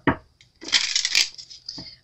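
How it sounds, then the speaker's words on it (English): Tarot cards being shuffled by hand, a sharp tap at the start, then a dense rustling, riffling burst for about a second, followed by a brief soft thump near the end. "I'm going to shuffle a little bit just so you guys see that I'm not rigging the cards"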